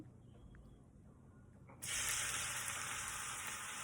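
Onions hit hot oil with spluttering mustard seeds, and after a faint, quiet start a sudden bright hiss bursts up and holds steady, a close, continuous sizzle.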